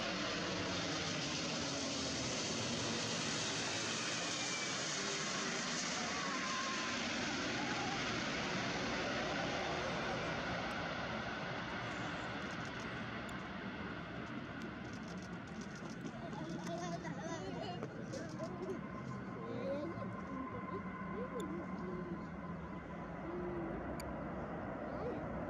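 Antonov An-124-100M Ruslan landing at Rzeszów-Jasionka airport, heard from close by: a broad, heavy roar that is strongest at first, then eases into a lower, rougher rumble that carries on for many seconds.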